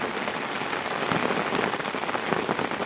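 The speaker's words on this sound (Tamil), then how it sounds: "மழை பெய்யுது" Rain falls steadily on surfaces and foliage near a hillside farm field, a dense, even hiss of drops close by with no voices.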